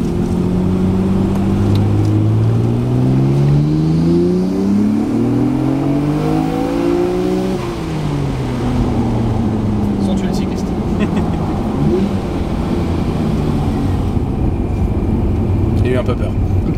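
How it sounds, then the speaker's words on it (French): A Nissan Skyline R34 GT-R V Spec engine revs and pulls hard through a gear alongside a wall, the pitch climbing steadily, dropping at a shift, then rising again, loud and close with a faint voice underneath. "On va tirer un petit rapport le long du mur pour le plaisir."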